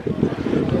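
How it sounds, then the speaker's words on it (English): Wind buffets the microphone at an outdoor classic car show at Capesthorne Hall, a loud, low, rumbling flutter that keeps up unbroken for under a second. "There you go, just in case you wonder whether it was windy or not."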